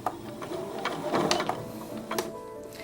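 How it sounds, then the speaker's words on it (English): Domestic sewing machine stitching along a drawn line on quilt fabric, a steady close mechanical whir with rapid needle chatter, slight surges in speed. "have a demonstration of this on the sewing machine with different fabrics"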